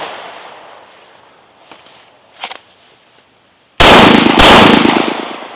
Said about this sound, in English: 2 theoretically well-aimed shots from a retention position with your support hand out of the way